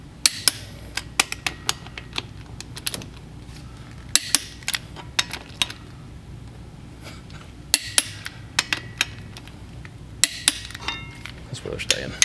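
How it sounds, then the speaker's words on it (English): A wrench torques the clutch bolts on a Dark Horse Mustang twin-disc clutch install, making sharp metallic clicks and clacks that come in irregular bursts over a quiet garage background. "Now we're going to torque these to 70 foot-pounds."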